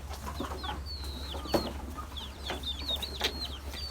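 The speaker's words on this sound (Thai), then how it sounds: "อุ้ย ไก่" A chicken clucks outdoors in a rural village in Loei province, Thailand, giving a few short clucks over a steady low hum, with high, thin bird chirps repeating in the background.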